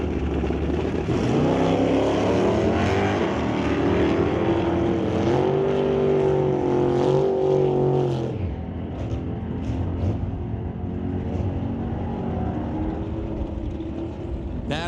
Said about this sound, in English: a 79 Impala, sporting that 454 cubic inch big block Chevy motor